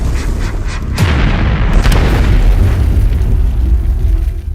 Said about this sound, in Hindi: एक तेज धमाका और अगले ही पल मेजर डीपी सिंह बुरी तरह घायल होकर जमीन पर गिर गए